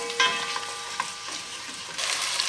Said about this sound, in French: je vais ajouter mes échalotes et ma gousse d'ail coupée en deux. Et on va faire rissoler quelques minutes